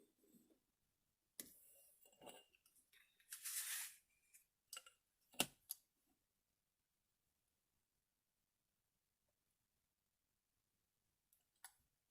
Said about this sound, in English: we're going to cut those two lines now